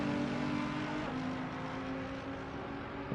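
Race cars on the Imola circuit in a racing game, a steady engine drone of several cars passing at speed, fairly faint and continuous.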